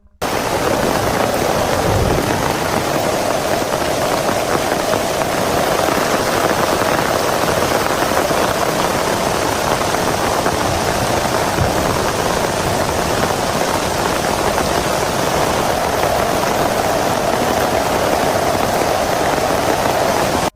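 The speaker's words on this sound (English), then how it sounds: "a massive storm rolled in, thunder roaring, rain crashing down in sheets." A heavy thunderstorm in the woods brings a dense, constant roar of pouring rain, loud and close, with a low rumble of thunder early on and no voices.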